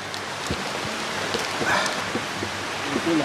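Heavy rain with wind pours down steadily around a bamboo hut on a mountaintop, a dense close hiss with scattered drips and faint barking mixed in.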